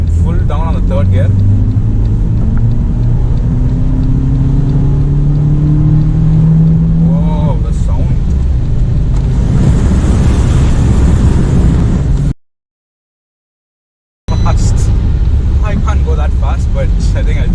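An Abarth Punto Evo hatchback's engine climbs steadily in pitch as it accelerates hard in third gear, with loud road and wind noise and a brief dropout.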